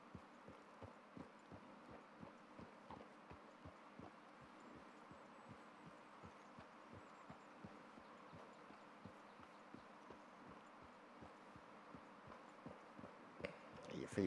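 Horse hooves clip-clop in a steady walking rhythm throughout in Red Dead Redemption 2, close and fairly quiet, with a faint voice now and then over the hoofbeats.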